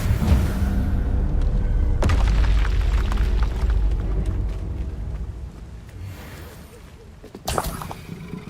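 Confringo spell explosions in the Hogwarts Legacy video game, a deep booming blast that rumbles and fades, followed by another sharp burst late on amid battle sounds.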